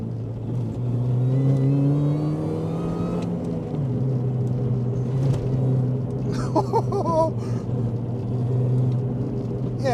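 A TVR sports car pulls hard in second gear on a road trip, its engine a deep, steady rumble with a whirring undertone that holds loud and close throughout, with a brief faint voice partway through.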